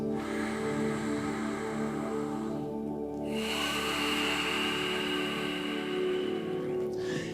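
Ujjayi yoga breathing with the mouth closed and a gentle constriction at the back of the throat, giving a steady ocean-like hissing rush of breath that runs continuously, close and fairly loud, with a brief pause between breaths.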